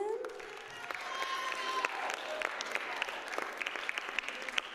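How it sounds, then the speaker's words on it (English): Following a clarinet piece at a staff recital night, a modest crowd applauds with crisp clapping and some brief cheers. A voice is faintly audible at the start, and individual claps ring out close to the microphone. "Another round of applause for him"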